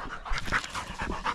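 Overheated coonhounds pant rapidly and heavily after a summer coon hunt, a close, fast run of breathy gasps with no talk over them.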